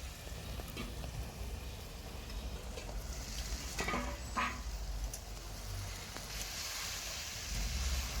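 Mixed vegetables with ginger paste, tomato and spices being stir-fried in a pan, a steady low sizzle with a few spatula scrapes and clatters midway, close and moderately quiet.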